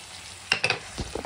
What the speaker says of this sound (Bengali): এখানে দিয়েছি পেঁয়াজ, আদা, রসুন, কাঁচা লঙ্কা বাটা, টমেটো, এগুলো দিয়ে আমি কষাচ্ছি।